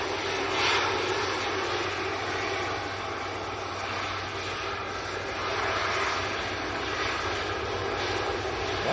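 A Privilege Boeing 777 jet departs Manchester Airport, its engines producing a steady, broad roar that rises and falls gently across the whole stretch with no pauses or talk.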